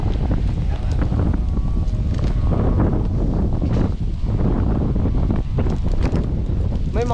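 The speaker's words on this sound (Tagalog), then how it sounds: "Kalakas ang hangin, ano ba? Nabagyo-bagyo." Strong gusty wind buffets across an open sweet potato field, a loud continuous roar of rushing air and microphone buffeting, with voices faintly talking beneath it.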